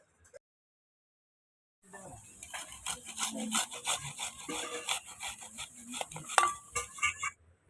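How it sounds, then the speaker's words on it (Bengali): Small onions rubbed against a kitchen grater: rapid rhythmic scraping and rasping strokes, close and fairly quiet, starting after a near-silent opening with a brief tap. "এবার গ্রেডারের সাহায্যে গ্রেড করে নেব"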